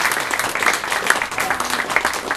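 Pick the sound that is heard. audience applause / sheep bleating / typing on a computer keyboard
audience applause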